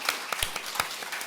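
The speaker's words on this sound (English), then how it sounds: "you just had a large round of applause from the audience" A fundraiser audience gives a round of applause, with scattered claps heard at a moderate distance at an uneven rhythm.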